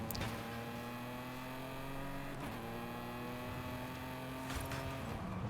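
A lightweight, sporty car in the Forza Horizon racing game drives steadily through a sequence of corners. Its engine note holds a smooth, sustained hum that dips briefly twice, as if between gear changes, with faint tire and road noise underneath.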